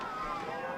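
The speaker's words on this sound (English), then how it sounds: "We have some major gust going on here at Moon Valley High School." Strong wind gusts buffet the microphone at a high school football field, giving a steady, loud roaring rumble that covers the whole moment.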